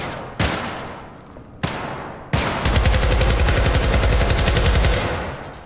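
Shotgun fire in the video game Syndicate: two loud single blasts with decaying tails, then a heavy sustained burst of rapid automatic fire rolling on for about three seconds.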